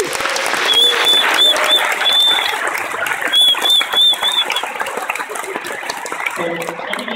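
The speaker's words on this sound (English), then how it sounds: "So a round of applause for all of us," A Wikimania conference audience breaks into loud, sustained applause. Sharp whistles cut through the clapping in short bursts, and the sound thins out toward the end as a voice begins speaking.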